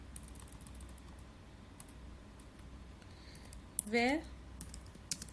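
Fast typing on a computer keyboard while entering notation in MS Word, a steady run of light clicks throughout, with a brief spoken word partway through.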